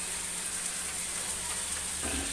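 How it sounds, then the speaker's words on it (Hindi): Pumpkin and potato pieces with turmeric and salt fry in a pan, giving a steady, close hiss of sizzling oil throughout with no talk. "सब्जी अच्छे से फ्राई हुई है"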